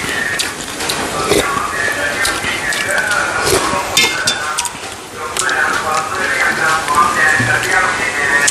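Steady rain patters on a surface, a dense hiss with scattered drops, while people talk nearby.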